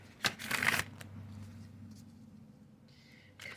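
Spirit animal cards being shuffled, one quick riffle burst near the start, then quiet handling and a soft rustle at the end.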